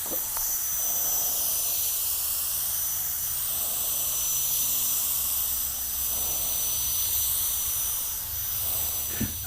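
Eastwood LT100 spray gun at about 24 psi spraying car paint, with the fan wide open: a continuous loud, close airy hiss lasting throughout, with slight swells in level.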